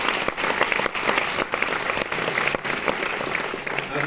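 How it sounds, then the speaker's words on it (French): Audience at a film presentation at the Cinémathèque française applauds, with dense continuous clapping punctuated by a few sharper claps, steady and fairly close throughout. "Vous pouvez même l'applaudir"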